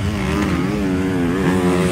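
A 150cc motorcycle racing a 450cc motorcycle, engines revving loudly and close with a rising and falling whine that wavers through the short burst.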